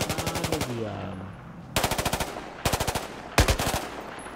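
Bursts of rapid automatic gunfire in Battlefield 4, four separate rattling volleys close by, separated by short gaps, with a brief whistling tone after the first burst.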